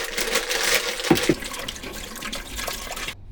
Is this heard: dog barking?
no